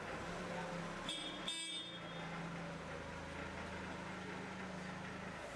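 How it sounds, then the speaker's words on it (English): Forklift horn sounding in a warehouse aisle, a short honk followed by a second brief blast over a steady low engine hum, fairly close, no talk. "slow down and sound the horn. A couple of short blasts should do the trick to warn others that you are there"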